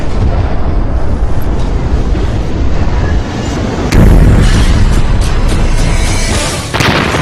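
A massive, rumbling nuclear bomb blast roars continuously, swelling even louder midway through before easing slightly, with deep booming throughout.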